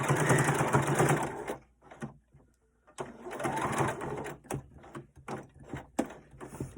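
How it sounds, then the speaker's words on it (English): A sewing machine stitches elastic firmly onto the corner of a pleated fabric mask, running in close, steady bursts separated by short pauses, with light clicks and handling noises in between. "I'm going to sew it good to the corner so that it doesn't come loose"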